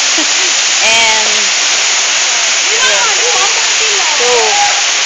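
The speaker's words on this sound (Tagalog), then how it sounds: "Ang waterfalls here is ayun." A waterfall at Seagull mountain resort roars as a loud, steady rush of falling water, while voices talk over it intermittently.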